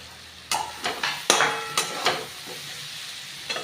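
Eggplant pieces frying in a pan with fish and potato, a steady sizzle under several sharp scraping stirs and clunks of the spatula, close up and without talk.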